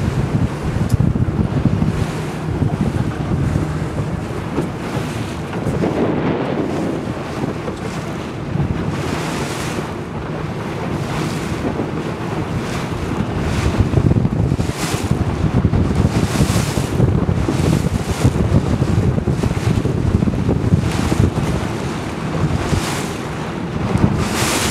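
A boat heads out to sea from a bay in Thailand, with continuous wave wash and heavy wind buffeting the microphone throughout, loud and close.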